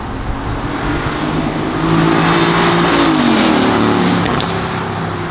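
A 2019 Aston Martin Vantage engine revs loudly and close, its pitch rising and settling as it accelerates, a steady roar with no talking over it.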